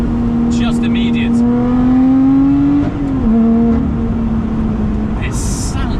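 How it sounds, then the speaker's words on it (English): A Lotus Exige 410's supercharged engine revs hard and climbs in pitch, drops briefly at a gear change, then pulls again, with a voice talking over it. "And then there's the engine. 410 supercharged horsepower"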